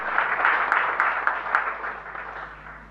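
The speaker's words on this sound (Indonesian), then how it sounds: "tepuk tangan bagi Dia" A church congregation applauding together, a dense, steady wash of clapping that swells early and slowly fades over a few seconds.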